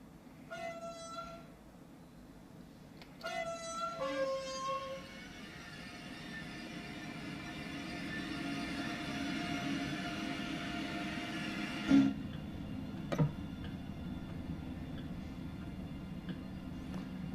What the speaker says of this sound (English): And the train is driving itself.